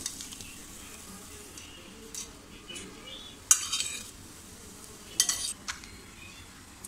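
Cooked potato and cauliflower scraped from a pan onto a plate, quiet metallic clinks and scrapes of a utensil against the pan, with two sharper clatters standing out over a faint sizzling background.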